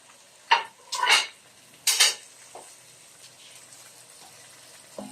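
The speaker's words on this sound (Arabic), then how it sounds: "بعد ما ضفت الفراخ بتاعتي على البهارات، هقلبها كده تقليبه خفيفه كده" Chicken pieces being gently stirred with spices in a pot for kabsa, a few scraping clatters of a spoon against the metal, then quieter scuffing.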